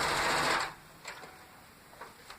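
A sewing machine stitches rag quilt four-patch blocks together in a quick whirring burst up close, then falls to quiet with a few faint clicks and taps.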